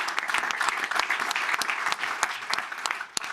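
Conference audience applause at a water and industry panel, a dense wash of many hands clapping, fairly loud and steady, tapering slightly at the end, with no voices over it.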